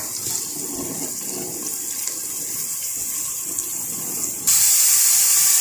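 Garlic and ginger frying lightly in a pot of oil for chicken vegetable soup, a steady close sizzle and hiss that grows suddenly louder and brighter near the end, with no voices.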